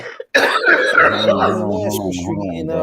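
A person coughs harshly up close, a rough throaty fit that trails into raspy, voiced hacking.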